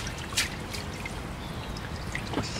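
Water trickles and drips from the roots of a bonsai apple tree lifted out of a tub, a steady light splashing with a couple of brighter drip accents, close and alone.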